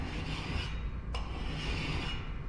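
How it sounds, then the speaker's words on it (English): A mill file rasps along the edge of a cabinet door in steady, close, continuous strokes, with a brief pause in the middle of the scraping. "I'm just going to file this, and I want to try and keep this as flat as I possibly can."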